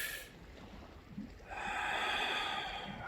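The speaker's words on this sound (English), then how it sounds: "Close my eyes, take a deep breath." A single deep breath taken during a quiet moment of focused relaxation with closed eyes: a soft, close, airy rush that swells and holds for over a second before easing off, with no talking.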